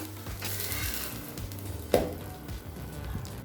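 Rava uttapam sizzles steadily on a hot pan just after being flipped, a continuous frying hiss with a single sharp scrape or tap of the spatula partway through.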